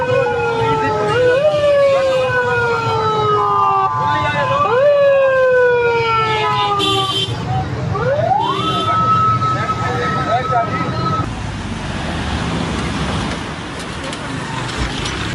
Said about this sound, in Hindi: कई एम्बुलेंसेस और उसके साथ साथ फायर ब्रिगेड की गाड़ियां जो हैं